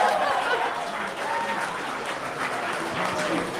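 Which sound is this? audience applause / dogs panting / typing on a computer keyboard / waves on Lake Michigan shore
audience applause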